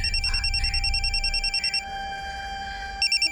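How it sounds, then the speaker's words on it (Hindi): Mobile phone ringing inside a locked room: a trilling electronic ring in rapid pulses, a pause, then the ringing starting again, heard from nearby through the door. "फोन की आवाज तो अंदर से आ रही है।"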